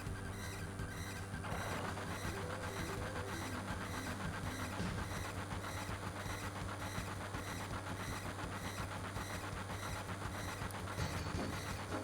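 Steady train ride in Final Fantasy VII: a continuous, faint rolling rail rumble with a constant low hum and repetitive mechanical clatter runs throughout, with no talk over it.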